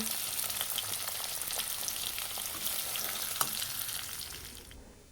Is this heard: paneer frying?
yes